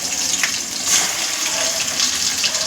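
Masala paste of ground garlic and onion sizzling in hot oil for a spicy dry chicken curry, a steady bright hiss that holds loud and even throughout with no talk.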